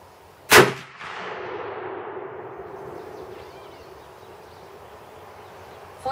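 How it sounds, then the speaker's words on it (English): A single sharp rifle shot from a .270 Winchester firing a cast bullet at a target cracks loudly up close, then rolls into a long fading echo across an open range. "I'm going to shoot the lower right target."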